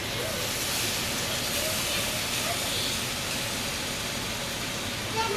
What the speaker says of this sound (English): Our pot has been boiling for quite some time now, about 2 hours.